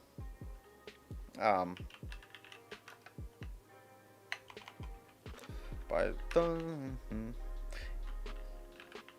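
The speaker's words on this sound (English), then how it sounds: "typing and talking is not my forte" Intermittent typing on a computer keyboard, with scattered sharp key clicks in short bursts, heard under someone talking throughout.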